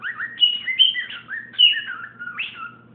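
A pet bird chirps and whistles close by in a quick run of bright, rising and falling calls, with a faint low hum underneath.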